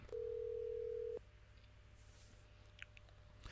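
A single steady telephone tone sounds for about a second, followed by quiet room noise and a couple of faint clicks, as if a call is being placed on a phone.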